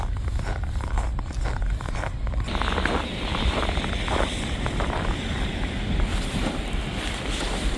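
Cold wind in Canada buffets the microphone outdoors, a loud, constant low rumble with gusty roaring and no voices.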